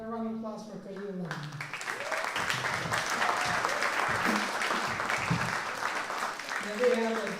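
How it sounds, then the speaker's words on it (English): Audience applause at the Koolauloa Music Festival: a crowd claps steadily for several seconds after a voice introduces an act, with speech briefly audible at the start and end. "A round of applause for Koolauloa."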